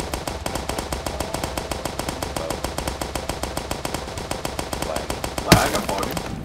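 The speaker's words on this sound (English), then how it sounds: "It's a machine pistol." A machine pistol fires in the video game Starbound, rapid continuous bursts of gunfire with a sharp, louder impact near the end and no talk.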